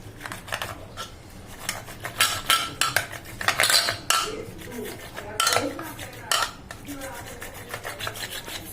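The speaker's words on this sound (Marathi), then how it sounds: "आता हे आपल्याला रवीने चांगले प्रकारे गरगटून घ्यायचे आहे" A wooden churner mashes cooked chakvat greens in a metal pot, giving repeated scraping, knocking strokes against the pot in an irregular rhythm, close and fairly loud throughout.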